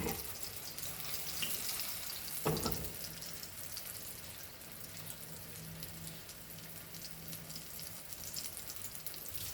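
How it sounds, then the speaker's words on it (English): Hara bhara kebabs fry on slow heat in a pan, giving a steady, soft sizzle throughout with one brief louder clatter early on. "Fry it on slow fire."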